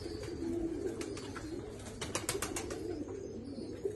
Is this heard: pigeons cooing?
yes